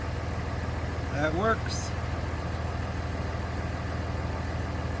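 A 6.0 Powerstroke diesel truck engine idles with a steady low rumble that runs throughout, and a person briefly speaks over it.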